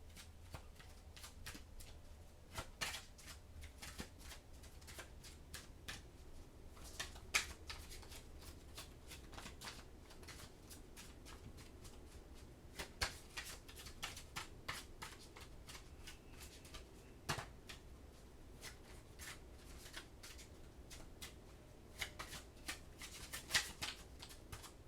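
Oracle cards being shuffled by hand during a Scorpio reading, a steady riffling and flicking of cardboard that runs continuously and close for the whole stretch, with sharp slaps standing out now and then and no talk over it.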